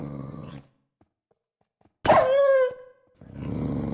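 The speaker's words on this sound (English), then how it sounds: "look how many dogs there are, and I need them" Dogs in a hardcore survival invasion video game let out a single loud growling snarl with a wavering, tonal howl-like tail, set between quieter passages of game sound.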